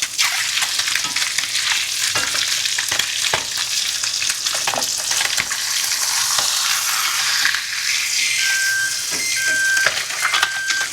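Fish fillet fries in a pan and gets flipped with a spatula, a loud, dense sizzle broken by sharp scraping clicks of the metal utensil against the pan, steady throughout and without speech.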